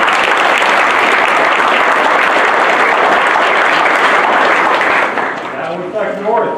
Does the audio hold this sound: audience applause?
yes